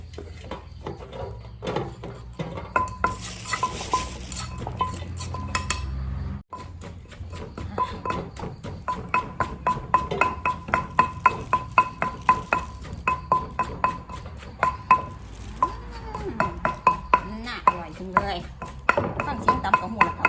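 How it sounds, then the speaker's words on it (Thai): A Thai rattan shoot salad being pounded in a mortar with a pestle: a long train of sharp, rhythmic wooden knocks and clinks, close and fairly quick, with some rattling of the bowl between strikes. "แล้วเขาก็มาตำอีกให้มันเข้ากันอีกรอบนึงก็แล้วกันค่ะ"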